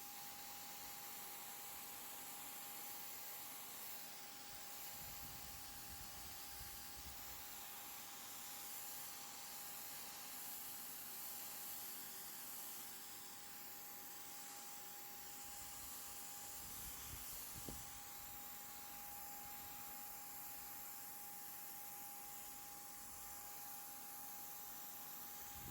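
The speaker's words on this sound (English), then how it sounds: "To give you an idea of how quickly this paint sprayer will spray a flat surface" A Huepar SG800 electric paint sprayer coats a marked-out flat surface, giving a steady motor whine with a constant fine hiss of spray, unbroken and moderately quiet, with faint low rumbles from handling partway through.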